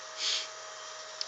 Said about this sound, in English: Sorry about the noise in the back. Somebody's decided to weed eat.